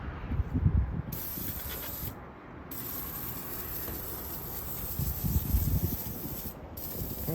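Cleaner sprays in a steady hissing, rubbing stream across the engine bay of an Infiniti G37S, with close scrubbing and brief pauses in between.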